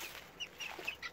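Guinea fowl kept with young chicks make faint, quick clucking and chattering calls, several short notes in about a second, with no talk.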